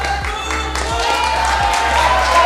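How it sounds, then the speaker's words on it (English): A crowd at a CrossFit competition cheers and claps steadily for an athlete walking back to her wall ball shots, a broad roar kept under an announcer's talking and a low repeating thump. "the crowd is cheering Leonie on as she walks back to those wall ball shots"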